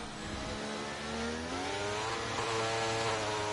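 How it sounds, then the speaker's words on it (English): Race car engine in a sim racing game over-revving through a slow left-hander at Interlagos, a steady loud high-pitched whine that climbs and wavers in pitch for the whole stretch, with no talk over it. "Hear the over revs there for Koivuniemi around that slow left-hander"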